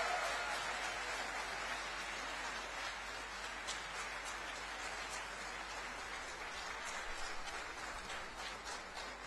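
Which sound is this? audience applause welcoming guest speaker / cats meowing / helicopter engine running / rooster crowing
audience applause welcoming guest speaker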